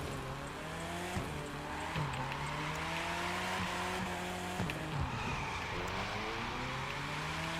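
A car drifting in The Crew 2 racing game: a revving engine drones steadily as the tires squeal through long slides, with occasional short bumps and shifts in pitch, heard alone at moderate volume.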